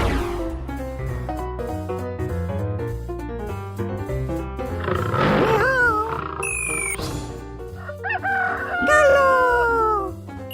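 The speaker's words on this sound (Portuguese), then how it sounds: "Galo!" A rooster crows loudly over a busy cartoon music bed, its rising and falling call standing out clearly for a few seconds amid bright whistle-like effects, with no talking.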